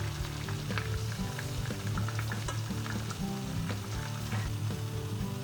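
Chocolate melting in a pan for a vegan chocolate and avocado ice cream, with no oil added: a continuous soft sizzle and crackle with scattered small pops, heard close and alone.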